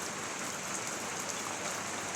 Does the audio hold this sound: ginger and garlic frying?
no